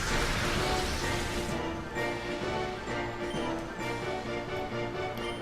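Shadow Hail weather effect in the Pokémon XD video game, a dense continuous patter like pelting rain or hail that stays loud and even across the whole stretch, with no voices.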